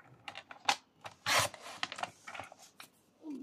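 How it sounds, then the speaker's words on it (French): A paper trimmer with a slightly worn blade cuts through cardboard in a series of short, close scraping and slicing strokes, with one longer rasping cut in the middle. "c'est juste une découpe au massicot"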